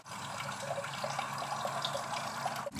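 Coolant pours steadily out of the engine block of a John Deere 1025R compact tractor, a continuous close splashing trickle with a bubbly texture that cuts off abruptly at the end, with no voices.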